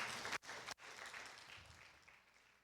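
A church congregation applauds during a Spanish-language sermon on prayer for the homeland, a faint, distant wash of clapping with two brief dropouts early on, then slowly fading.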